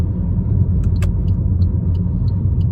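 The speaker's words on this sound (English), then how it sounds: "you're slowing down the engine by going into lower gears" A car engine braking in a lower gear hums loud and close, a steady low drone with faint ticking on top and no speech.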